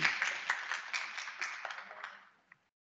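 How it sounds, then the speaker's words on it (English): Applause for a student speaker at a university National Criminal Justice Month keynote event, a brief burst of clapping from a modest audience that thins and fades out within about two and a half seconds, ending on one last clap. "could we give a round of applause to Sam Mansufu Bay?"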